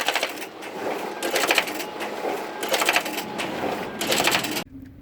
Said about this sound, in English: right now I want to print out some documents